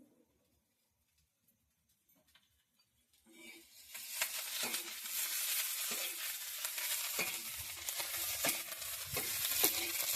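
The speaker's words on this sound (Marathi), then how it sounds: "मिरच्या पण छान भाजल्या का" Green chillies and peanuts dry-roasting in a pan start sizzling after a quiet opening, with stirring scrapes and crackles over a steady hiss, moderately close, and faint bird coos early on.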